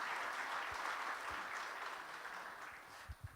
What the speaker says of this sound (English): I think that's worthy of a round of applause to His Excellency.